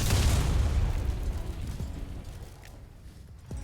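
A tank cannon fires in War Thunder ground realistic mode, giving a loud close boom whose rumbling blast decays over a few seconds, with faint debris clatter afterwards.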